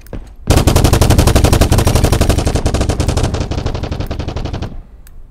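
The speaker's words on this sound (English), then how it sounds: "we lower the volume and then we muffle a little bit, making that this gunfire is not something that is possibly yet a threat to you" Sustained automatic gunfire in a video game, a dense rapid stream of shots lasting about four seconds, loud and continuous, ending abruptly with a few faint pops after.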